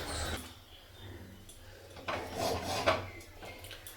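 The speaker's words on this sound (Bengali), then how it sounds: "তো কড়াইটা বসিয়ে দিলাম" A kadai (wok) is set down on a home kitchen stove, giving a couple of short metallic clanks and scrapes around the middle of a quiet room hum.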